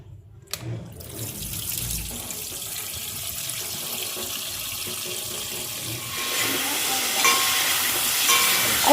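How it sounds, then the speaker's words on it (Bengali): Chicken is rinsed under a tap, water gushing steadily and loudly into a sink after a brief start, the flow growing brighter and stronger toward the end. "তো চলো এখন চিকেনটা ধুই।"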